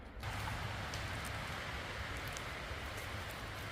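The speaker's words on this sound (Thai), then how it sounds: "ยินเสียงลมโอ้ยเถ่า" Wind rushes steadily through a forest where wild mushrooms grow, a broad, even hiss of moving air and rustling leaves that starts abruptly and holds at a moderate level with no talking.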